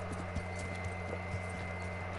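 A decorated, saddled horse in Kingdom Come: Deliverance walks with a steady clip-clop of hooves, evenly spaced thuds over a constant low hum, moderately close.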